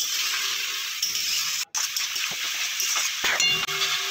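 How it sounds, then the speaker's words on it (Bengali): Ginger-garlic paste and turmeric with a little water being fried and stirred in a pan for a sea salt-water fish curry, a steady close sizzle with a few soft clinks from the spoon. "দিয়ে আমি ভালো করে কষিয়ে নিচ্ছি মশলাটাকে"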